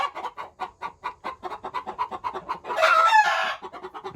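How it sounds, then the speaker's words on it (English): A young rooster on a meat-chicken farm crows once loudly and close by, following a steady run of rhythmic clucking from the flock. "That's one of the younger roosters."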